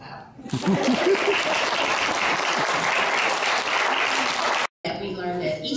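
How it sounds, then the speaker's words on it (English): Audience applause at a preschool program, a loud, dense wash of clapping that starts abruptly and holds steady for several seconds, with a voice briefly audible at the start and talk resuming after a short cut. "You may clap"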